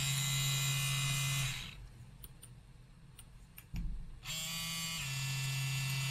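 A home tattoo machine buzzes loudly and steadily up close, cuts out after about a second and a half, then restarts with a click and runs evenly again to the end.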